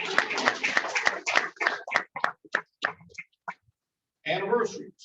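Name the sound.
audience applause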